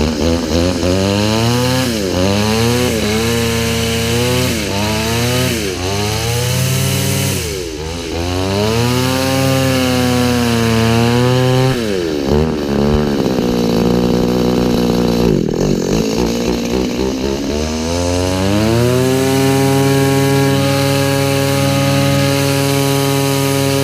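An Echo SRM-2100 string trimmer's two-stroke engine runs loud and close, revving up and down repeatedly before settling into a steady high idle.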